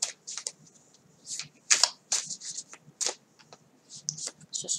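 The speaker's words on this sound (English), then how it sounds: "Let's just give it a bit of a shuffle." Quiet, crisp riffling and snapping of tarot cards being shuffled by hand, in irregular bursts over a few seconds, close and soft.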